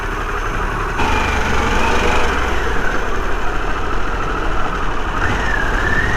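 A Harley-Davidson Pan America motorcycle engine on the move, a steady, loud, full-bodied rumble with a rushing edge of wind that holds evenly throughout, with no voices.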